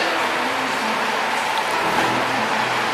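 A Lexus IS250 engine runs without a muffler or resonator, giving a steady, rough, unbroken drone with a low throb, heard close and alone.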